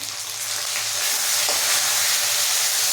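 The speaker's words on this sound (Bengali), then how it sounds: "খুব ভালো করে ভেজে নেব।" Ginger-garlic paste with chopped tomato and green chili fries in a pan, a steady close hiss of sizzling oil filling the whole stretch with no talk.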